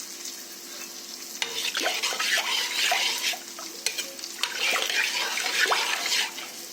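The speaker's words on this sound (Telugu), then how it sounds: "సాల్ట్ వేసుకొని ఒకసారి కలుపుకోవాలి" Tamarind pulusu being stirred after salt is added: a wet swishing and scraping of a spoon through liquid in a pot, steady and close, with brief clinks and no talking.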